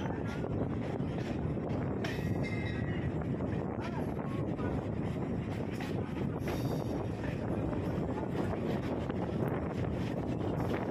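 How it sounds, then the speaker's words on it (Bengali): Kolkata Circular Railway train pulling into Patipukur station, a steady loud rumble and rattle of the carriages with broadband noise throughout and no clear pauses. "ট্রেন পাতিপুকুর স্টেশনে এসে পৌঁছালো"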